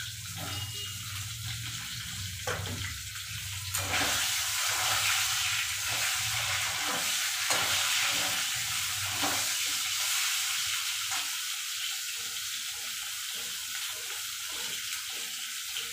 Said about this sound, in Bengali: তেলের মধ্যে আমি ঝিঙেগুলো দিয়ে দেবো। ঝিঙেগুলো হালকা ভেজে নেব।